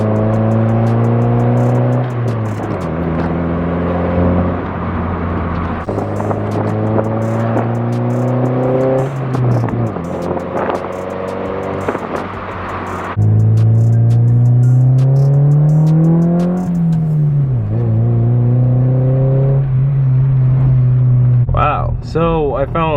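Honda Del Sol engine revving and climbing through gears while driving, loud and close from inside, with rising and falling engine pitch and shifts throughout, ending in a brief rattle.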